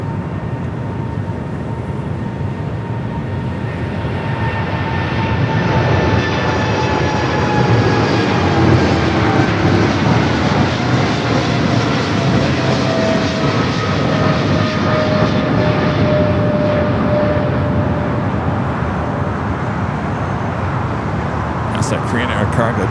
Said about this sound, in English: Cargo 777 freighter.